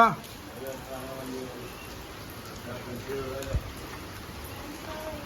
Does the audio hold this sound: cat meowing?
no